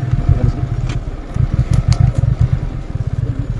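A motorcycle engine idles close by as the bike is parked, a low throbbing putter with irregular pulses and a few light clatters, loud and steady with no voices.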